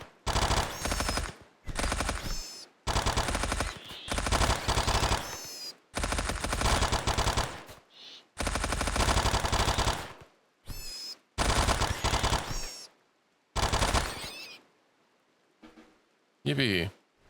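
Rapid bursts of gunfire from the colony game Rimworld crack out in loud clusters separated by short silences, with a faint chirp near the end.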